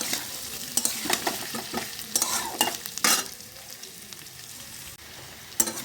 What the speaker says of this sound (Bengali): পেঁয়াজ কুচিটা ভাজা হয়ে গেলে পর মশলাটা দেবো।